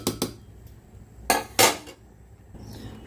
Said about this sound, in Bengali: এবার আমি ঢাকনা বন্ধ করে দেব।